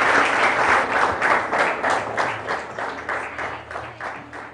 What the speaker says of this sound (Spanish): Démosle un fuerte aplauso.